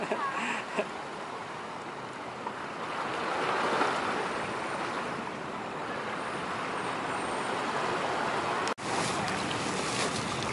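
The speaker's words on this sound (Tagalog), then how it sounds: "ang lakas sa alon" Heavy waves in Manila Bay surge and wash continuously, a loud rushing roar with wind noise, swelling midway, and a brief thump near the end.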